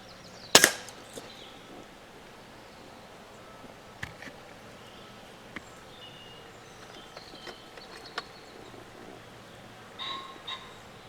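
A single sharp air rifle shot fired at a squirrel in quiet woodland, heard once near the start, followed by long stillness with a few faint ticks and distant bird chirps.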